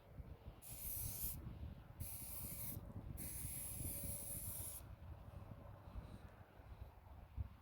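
Up close, an aerosol spray can hisses in three bursts of about a second each while paint goes onto an abandoned car in the desert, and quiet rustling and handling sounds fill the gaps between bursts.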